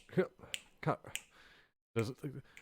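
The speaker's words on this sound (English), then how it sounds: "I'm just kind of snapping my fingers." Fingers snap a few times in quick, close succession, interleaved with a person talking.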